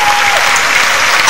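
A crowd gives dense, loud applause for actress Patience Ozokwo, a steady wash of clapping heard briefly and close, with a faint tone running underneath.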